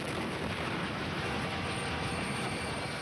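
A train roars past in a public service advertisement, a loud steady rumble of rolling rail cars with a high metallic wheel whine riding on top, close and continuous throughout.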